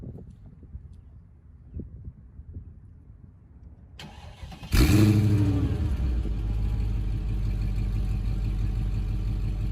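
A supercharged Mercedes CLS55 AMG engine cranks and cold-starts with a sharp burst, then settles into a loud, steady rumble that holds under a faint background hum.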